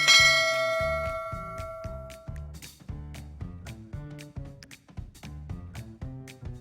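A bright ringing notification bell chime opens loud and close, its tones decaying over about two seconds into a steady rhythmic music bed with repeating percussive hits.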